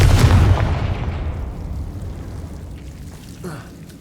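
Confringo fire spell bursting in Hogwarts Legacy, a loud booming blast at the start that rolls into a long fading rumble, with a faint later thump.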